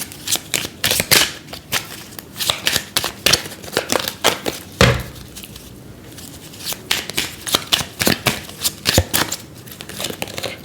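Tarot cards shuffled by hand during a weekly horoscope reading, a long run of close, crisp riffling and slapping bursts in quick irregular rhythm, with a brief pause midway and no speech.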